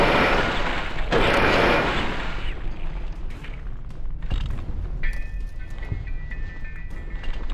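Gunfire in the Fallout 3/New Vegas video game: a couple of loud, booming bursts in the first few seconds, then quieter scattered pops and rumble trailing off.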